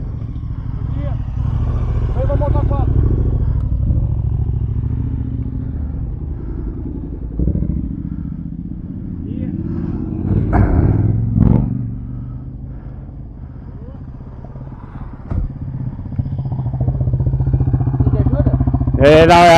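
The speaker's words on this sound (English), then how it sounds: "Bikes are coming." A Voge 300 Rally motorcycle engine rumbles nearby on rough ground, a low steady drone with a few swells and clattery bursts, someone talking over it.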